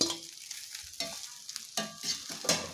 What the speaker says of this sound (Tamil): இப்ப நம்ம எடுத்து வச்சிருக்கிற அவல கொட்டிரலாம்